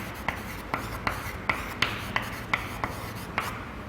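Chalk or pen writing on a board, close and clear, a quick series of about eight short scratchy strokes and taps in an irregular rhythm over quiet room tone, with no voices.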